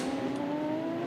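A steady, droning race car engine from the Dubai 24 Hour race hums at a constant pitch, close by and alone, with no voices over it.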